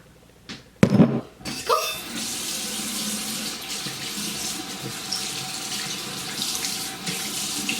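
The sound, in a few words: tap water running while washing face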